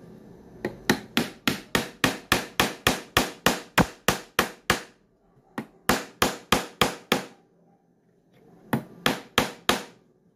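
Rapid hammer blows drive into a soft wooden picture frame, close and crisp, in three bursts of steady knocks with short pauses between them and no talking.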